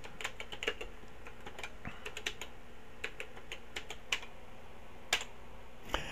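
Keystrokes on a TRS-80 CoCo 2 computer keyboard, typing a directory command: irregular bursts of sharp, close clicks spread across several seconds over a steady low hum, with no talking.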